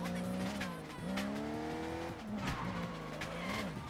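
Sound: car driving with tire squeal in video game Sleeping Dogs

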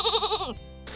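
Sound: sheep bleating sound effect

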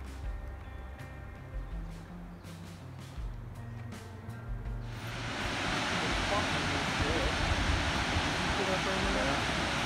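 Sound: water flowing down in a creek gorge

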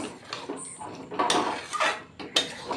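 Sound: stirring ridge gourd curry in a pan

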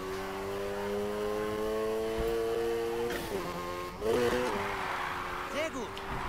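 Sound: car drifting at full throttle in video game Need for Speed Heat

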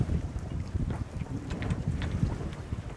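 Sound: sails flogging on a sailboat in light wind

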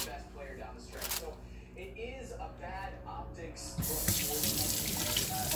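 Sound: water running from a tap while washing hands

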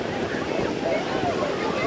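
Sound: ocean waves at the beach

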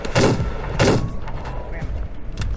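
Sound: Lancaster Pistol gunshot in The Wild West video game

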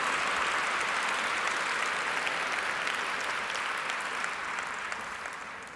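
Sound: audience applause

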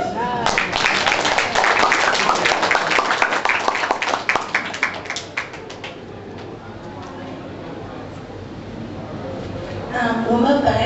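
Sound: audience applause for the chamber president

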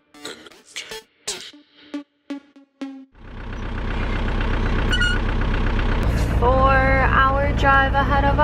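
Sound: bus driving on a rough track, engine running

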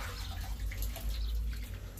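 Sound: well water poured into hands

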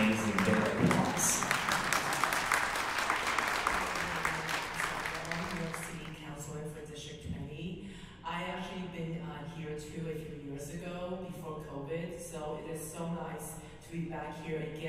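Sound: audience applause at a gala

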